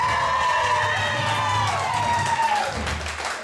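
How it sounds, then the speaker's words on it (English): An audience cheers a contestant with loud, sustained whoops and shouts from many voices over clapping, all at close range and fading slightly near the end. "we want you to give them a big round of applause"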